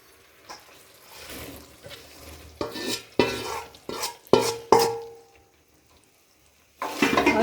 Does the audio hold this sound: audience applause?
no